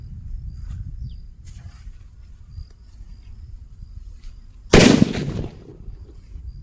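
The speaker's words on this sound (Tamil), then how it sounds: "அணுகுண்டு பார்த்தா ஓரளவு வெடிச்சுது" Kannan atom bomb firecracker from Sivakasi bursting outdoors, one sharp loud blast that rings out briefly, with quiet background rumble and faint insects before and after.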